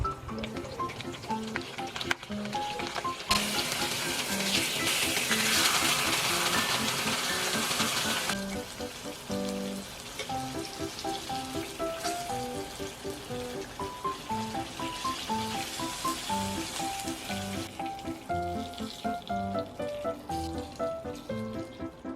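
Dried fish sizzles and crackles steadily in hot oil in a frying pan, a dense close frying hiss running the whole time with scattered pops and brief louder bursts, no talking over it.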